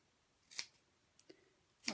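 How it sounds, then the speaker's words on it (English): Scissors cutting fabric into triangles, three short crisp snips spaced apart, close and faint in a quiet room. "I don't want to make you watch me cut triangles out of fabric"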